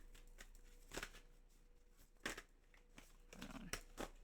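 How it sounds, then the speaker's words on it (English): Tarot or oracle cards are shuffled by hand in short, quiet riffling bursts separated by pauses, close and soft against a faint steady hum. "Let me get a good shuffle."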